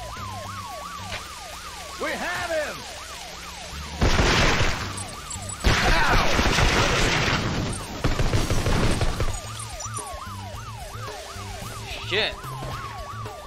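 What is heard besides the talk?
siren wailing in CT Special Forces: Fire for Effect video game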